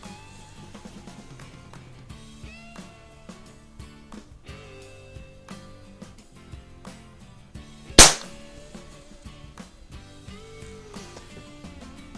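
A single sharp crack from a .177 pellet pistol, either a BSA Scorpion or an Ampell Acro, stands out loudly against quiet background clatter and low hum.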